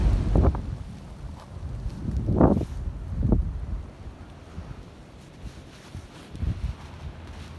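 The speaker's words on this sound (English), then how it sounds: "the wind's blowing this way" Wind gusts during a Wisconsin blizzard on a mallard duck hunt, buffeting the microphone with low rumbling blasts in uneven surges over a steady windy roar, with no talking.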